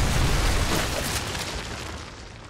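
Missile explosion in Modern Warfare 3 gameplay, a loud close rumbling blast that fades away into a long decaying roar, no talk.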